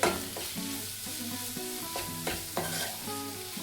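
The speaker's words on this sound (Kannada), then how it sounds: "ಸ್ವಲ್ಪ ಅರಿಶಿನದ ಪುಡಿ, ಇಷ್ಟನ್ನು ಒಂದು ಸ್ವಲ್ಪ 1 ಮಿನಿಟ್ ಫ್ರೈ ಮಾಡ್ಕೊಳ್ಳಿ." Egg bhurji masala with turmeric powder frying in a pan, a continuous loud sizzle broken by repeated spatula scrapes and knocks at an uneven rhythm, close and with no voices.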